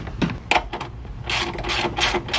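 A ratchet clicks in quick, uneven bursts up close as a new 10mm bolt with washers is driven into a radio mount in a 2020 Toyota 4Runner.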